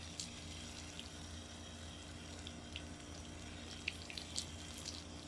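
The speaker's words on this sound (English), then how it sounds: "I'll try and do a little bit of light water on them" A garden hose with a gentle spray head lightly sprinkles water over newly seeded blue grama grass, making a steady, soft, continuous hiss of falling spray with faint droplet ticks and no talking.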